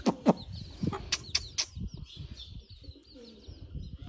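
Chicks in a backyard coop with a hen and rooster nearby, giving soft scattered chirps along with cooing pigeons, faint and close.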